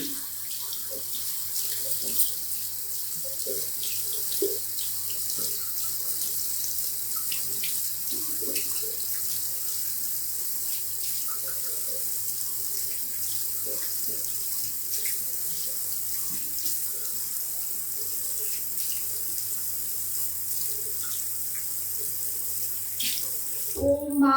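A tap runs steadily into a sink while a face is rinsed, a continuous close splashing stream with faint handling sounds, cut off abruptly at the end.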